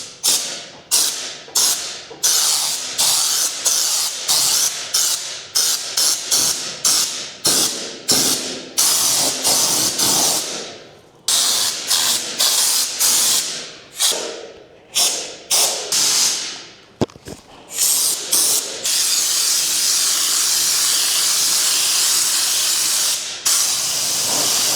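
Loud bursts of aerosol spraying stone guard underbody coating, hissing in repeated short pulses then longer sustained sprays, close to the listener with no talking.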